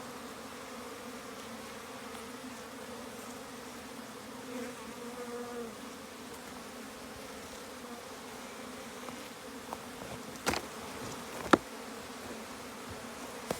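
Honey bees buzz around beehives in a steady, dense drone that holds throughout, with a few sharp knocks near the end.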